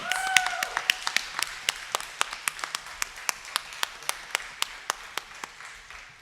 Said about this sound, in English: Please give a round of applause to Shri Uma Shankar